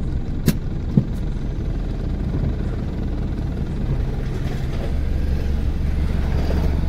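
A Maruti Suzuki WagonR's engine runs steadily as the car pulls away in first gear, a continuous low rumble that grows slightly fuller toward the end, with two sharp clicks near the start.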